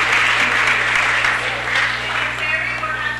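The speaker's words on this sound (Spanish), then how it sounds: "Por favor, denos a Lola un fuerte aplauso." A crowd gives sustained, loud applause at a city council meeting, dense clapping filling the room, with a faint voice underneath.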